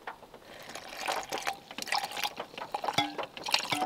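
Water pours into a blender jar over a banana and a scoop of vegan protein powder for a smoothie in a camper van kitchen, splashing and gurgling in uneven bursts that grow louder as the jar fills.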